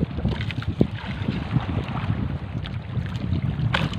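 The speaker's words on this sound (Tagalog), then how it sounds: "Grabe na mga alon." Big sea waves rush and slap around a small fishing boat out on open water, a loud continuous churn mixed with wind buffeting the microphone.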